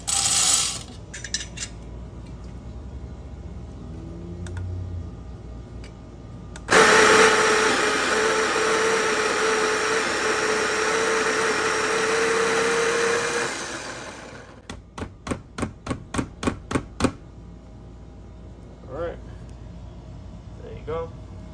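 An electric coffee grinder grinds a medium-dark Brazilian roast of whole coffee beans, a loud steady whir lasting several seconds, followed by a series of quick rhythmic taps and knocks.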